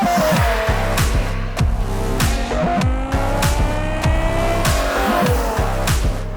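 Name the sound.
V10 BMW M5 with manual gearbox driving and accelerating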